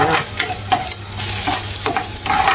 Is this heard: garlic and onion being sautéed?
yes